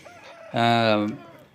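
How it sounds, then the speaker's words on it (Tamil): A rooster at a Kunnathur poultry setting lets out a single loud, close crow lasting about half a second, rising sharply then cutting off, with faint background noise around it and no talk. "பாருங்கள் என்னென்ன ரக சேவல் வந்திருக்குதுன்னு பாருங்கள்"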